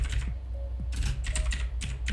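Quick bursts of clicking keystrokes on a computer keyboard as text is entered into Microsoft Word, close and crisp, with short pauses between the runs of keys.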